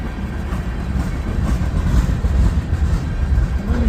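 A long freight train of tank cars, hopper cars and a boxcar rolls steadily past close by, a continuous heavy low rumble with wheel noise throughout and no pauses.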